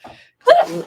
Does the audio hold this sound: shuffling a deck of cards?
no